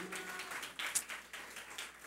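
Church congregation applauding the Lord during a Spanish-language sermon, a steady wash of many hands clapping at moderate distance, with a few sharper claps standing out.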